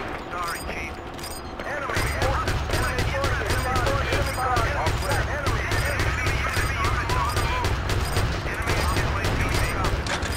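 Rapid gunfire in Battlefield 2 multiplayer on Gulf of Oman, dense repeated automatic bursts and crackling shots filling the scene, loud and close, with someone talking over the battle.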